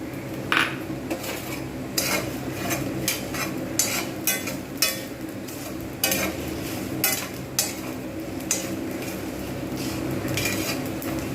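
Whole cumin and mixed spices being dry-roasted in a pan over low heat, with a utensil scraping and clinking against the metal in a steady rhythm and a soft sizzle underneath, close and continuous.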